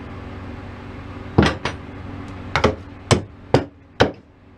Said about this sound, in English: you can make anything into a hammer